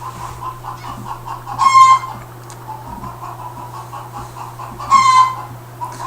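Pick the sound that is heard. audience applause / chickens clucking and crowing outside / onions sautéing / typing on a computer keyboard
chickens clucking and crowing outside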